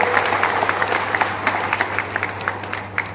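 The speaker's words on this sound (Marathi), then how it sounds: "जोरदार टाळ्या वाजवून पहिल्यांदा विजय साजरा करूया" A crowd at a victory rally in Karad claps loudly and steadily throughout, with sharp individual claps standing out.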